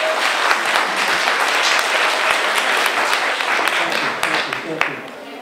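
Concert audience at a Rabindrasangeet performance breaks into loud, sustained applause, dense clapping filling the hall steadily before tapering slightly near the end.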